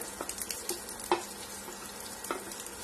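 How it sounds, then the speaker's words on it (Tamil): Onion and curry leaves sauté in hot oil, giving a soft, quiet sizzle with a few light stirring scrapes and clicks from the pan, close by and with no talk. "வெங்காயத்தை லேசா வதக்கி விட்டுலாம்"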